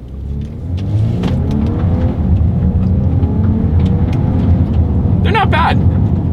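A 2024 Volkswagen Atlas pulls away from a standstill in first gear using paddle shifters, its engine revving loud and close with a steady rising drone and a brief bump near the end.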